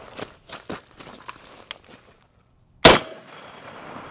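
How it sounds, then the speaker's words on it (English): A .308 rifle round striking a steel body armor plate: one sharp, loud crack with a short ringing decay, preceded by a few faint clicks and shuffles. "I've got five rounds of 308. We're just gonna wail on that plate and see what happens"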